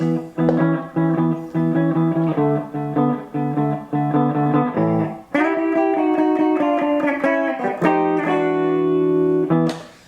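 Blues guitar turnaround: a run of quick picked notes over ringing harmony, then sustained chords resolving at the end, played loud and close on a slightly driven electric tone, no voices.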